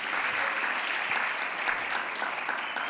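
A church congregation applauds in a steady, dense wash of clapping that holds evenly for the whole stretch, moderately distant and without speech.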